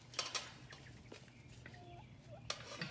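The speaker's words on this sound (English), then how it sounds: "And the true stars of the show, Destiny's chickens." A modest backyard flock of five chickens in a city homestead, including a black copper Marans hen, gives soft clucks and short calls at close range over a low background hum, with a few sharper bursts of movement.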